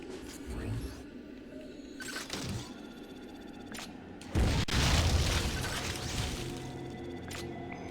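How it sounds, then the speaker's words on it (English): A bomb bursts with a loud, booming blast midway through Metroid Other M gameplay, preceded by smaller thuds and mechanical game sounds, with a player talking intermittently. "A normal bomb."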